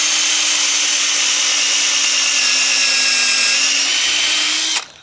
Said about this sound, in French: Là on va pré-percer, ce sera plus simple